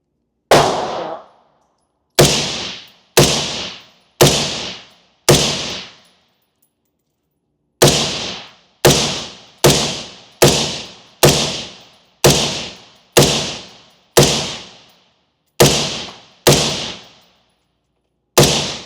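Rifle shots from a Daniel Defense MK18 ring out in irregular bursts of sharp cracks, each followed by a ringing clang as rounds hit steel targets, loud and close with brief pauses between strings.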